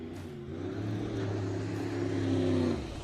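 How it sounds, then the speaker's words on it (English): A heavy race truck in the NORRA 500 desert off-road race roars close by, its deep engine note swelling and then dropping away within a few seconds. "Sounds like one of the heavier trucks."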